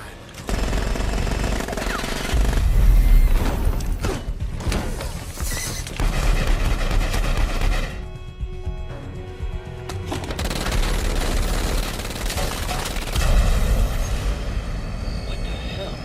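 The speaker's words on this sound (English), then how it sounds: "I'm seeing what looks like gunfire in the passenger cabin" Rapid automatic gunfire rattles in bursts inside an aircraft passenger cabin in the video game Army of Two, loud and close, over a rumbling engine drone with brief pauses between volleys.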